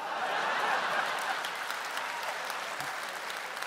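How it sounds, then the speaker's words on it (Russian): Steady audience applause fills a large hall at a KVN comedy show stage, dense and continuous, easing slightly toward the end with a faint chuckle underneath. "Аплодисменты."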